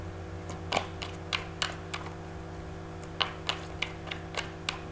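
Tarot cards riffle and tap in a series of light, crisp clicks over a steady low hum, irregularly spaced and close by.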